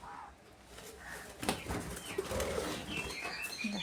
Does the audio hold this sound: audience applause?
no